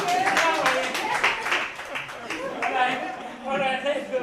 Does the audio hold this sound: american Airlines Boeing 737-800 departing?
no